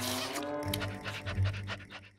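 Cartoon dogs pant in quick, rhythmic breaths, close and fairly loud, over a steady background of animated-show music.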